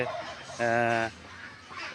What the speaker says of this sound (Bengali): ওই কর্নারে হচ্ছে রাজহাঁস